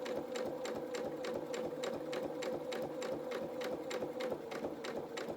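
A domestic sewing machine runs steadily, stitching fabric fed under the presser foot for children's shorts and dungarees, its rapid, even needle clatter close and continuous throughout.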